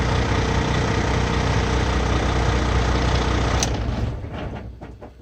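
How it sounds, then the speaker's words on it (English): Car engine idling loudly and evenly with a rough mechanical rumble and cooling fan running hard, then shut off near the end, the noise fading into a few faint ticks and near quiet. "Let me turn the engine off for a second."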